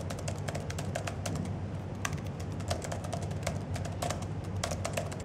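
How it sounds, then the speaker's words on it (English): Keys on a Microsoft Surface Pro 3 keyboard are typed in a quick, steady patter of soft, light clicks, heard close up and alone against quiet room noise. "The keys have a nice feeling and sound when pressed."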